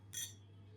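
Glasses clink once in a bright, short ring during a toast at a women's Christmas party in a mountain hut. The chime is close and clear and fades quickly over a low steady hum.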